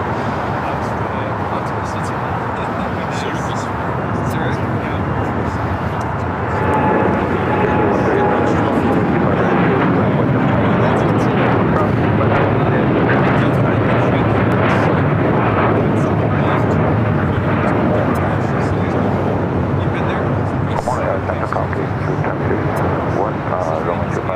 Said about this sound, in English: That was an American Dreamliner heading to Tokyo Haneda, flight 27